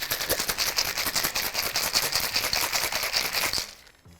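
Ice and liquid rattle hard inside a cocktail shaker holding sage, lemon and honey, a fast, steady clattering rhythm shaken up close for over three seconds before stopping abruptly.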